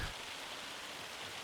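Hail falls steadily in Farming Simulator 25, a dense even patter on surfaces at moderate distance, continuous and fairly soft with no voices over it.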